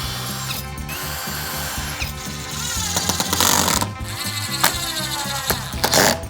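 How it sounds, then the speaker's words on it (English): A power drill drives Phillips screws into wood with pilot holes while building a giant tic tac toe lawn game, whirring in repeated bursts with ratcheting clicks and rising motor strain, loud and close. "one advice I'll give you with that drill, I know towards the end you want to give it a lot of power"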